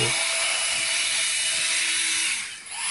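An EGO 60-volt battery leaf blower runs at variable speed outdoors on a freshly mowed lawn, a loud, steady, airy roar that eases briefly near the end and then picks back up.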